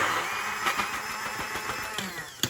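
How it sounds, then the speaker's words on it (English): A hand blender blitzes torn bread slices into breadcrumbs in a small pot. The motor gives a loud, continuous whirring drone with a few sharp knocks and surges as the blades chop. "I use a hand blender for this"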